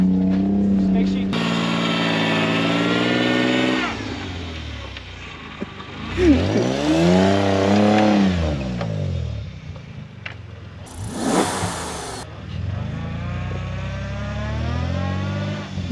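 A Toyota 4Runner engine revs hard while stuck in snow on a trail, rising and falling in loud surges, with people talking and shouting directions over it.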